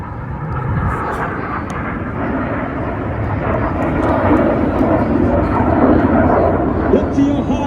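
Red Arrows jets roar past at the IWM Duxford D-Day anniversary airshow, a loud, continuous broadband rumble that swells slightly toward the end, with a voice talking underneath.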